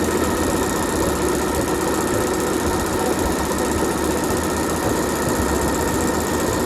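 A sewing machine stitches a running seam in a fabric mask, a loud, close, continuous mechanical whir with a rapid steady chatter and no pauses or voices.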